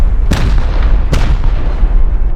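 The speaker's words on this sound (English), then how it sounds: "Let's go try this with some C4." Two heavy booms from C4 charges in the survival game Rust, each a sharp loud blast with a rumbling tail, spaced under a second apart over constant low background rumble.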